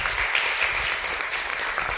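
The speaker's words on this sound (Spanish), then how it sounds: "Un aplauso a los expositores." Audience applause for the speakers at a talk on labour rights and a new constitution, a dense continuous patter of clapping in a hall lasting about two seconds, with no voices.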